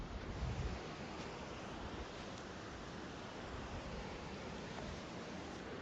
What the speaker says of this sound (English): And this is the Lytle Creek.